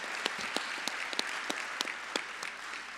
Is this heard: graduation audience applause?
yes